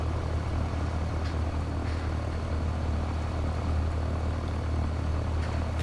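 A Cessna 150 engine idles steadily on the ground at about 1200 RPM, a continuous near, loud propeller-engine drone with a low throb that holds even for the whole stretch and has no talk over it.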